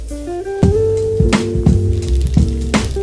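Mercadona gyozas frying in oil in a pan, a steady close sizzle with sharp crackles and pops bursting at irregular moments, no voices.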